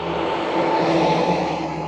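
An Ergon truck passes on a town street in Innisfail, Australia, a steady engine drone that swells slightly mid-pass, heard nearby.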